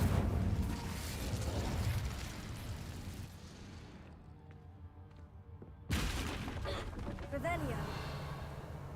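An Incendio fire spell from Hogwarts Legacy erupts in a burst of whooshing flame and crackling blasts that fades into a quieter stretch before another loud burst, with a voice calling out over the effects.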